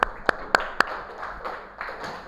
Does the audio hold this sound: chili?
no